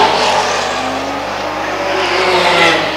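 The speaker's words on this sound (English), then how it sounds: "There's the 68 car's just gone past in front of us now." A race car, number 68, passes during a Mahindra North Island Endurance Series race: a loud, steady engine roar with a short rising tone partway through, and no voices.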